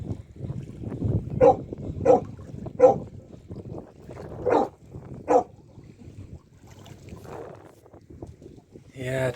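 A dog barking several times aboard a boat near a lighthouse during an island tour in Åland, with short, separate barks rising over engine rumble and water noise.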